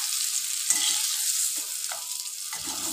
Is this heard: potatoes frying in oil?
yes